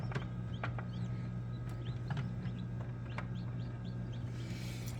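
Brahma chickens cluck and chirp faintly over a steady mechanical hum, giving a soft run of scattered calls from a brooder or coop at close range.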